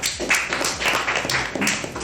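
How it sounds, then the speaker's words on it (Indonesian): Applause for Lala at an athlete talk show: a short burst of close, rhythmic hand claps from a small group, about a handful of beats, with no talking over them. "Oke, tepuk tangan lu buat Lala"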